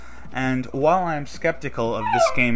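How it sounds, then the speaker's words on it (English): A pet dog whimpers and yips in a series of high, whining cries close to the microphone, overlapping with someone talking. "Excuse my dog there"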